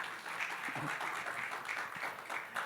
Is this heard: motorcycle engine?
no